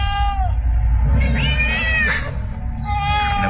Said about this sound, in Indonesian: Berada di halaman dan mengeong-ngeong.